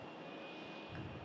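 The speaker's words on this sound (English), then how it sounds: "brand new as of last month, the Turkish A321" Turkish Airlines Airbus A321 at Manchester Airport, a steady broadband engine roar held at an even level throughout, with no voices.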